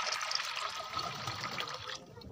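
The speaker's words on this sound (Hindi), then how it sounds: "बर्तन में डालेंगे पानी" Water is poured into a vessel for pigeons, a quiet, steady splashing stream that stops shortly before the end.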